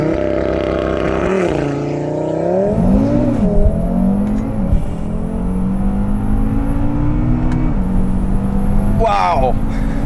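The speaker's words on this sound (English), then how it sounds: "Should we do a launch? We're gonna do a launch." An Audi RS3 with a hybrid turbo, roughly 700 horsepower, launching hard from inside the cabin, engine revs rising and shifting through gears in a loud sustained roar while someone talks over it.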